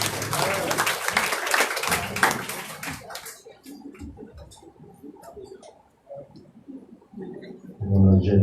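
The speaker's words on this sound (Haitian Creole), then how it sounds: "Applaudis le Seigneur pour lui." A church congregation claps at a service, a dense burst of applause for about three seconds before it thins out into scattered claps and murmuring, with a voice speaking at the end.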